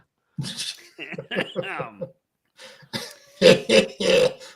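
A person coughs a few times in quick, harsh bursts, with some throat-clearing and vocal noises mixed in, close up.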